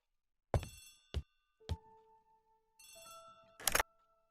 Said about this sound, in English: The telephone is ringing.